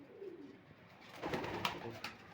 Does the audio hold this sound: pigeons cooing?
yes